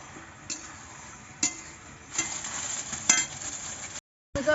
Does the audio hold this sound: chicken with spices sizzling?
yes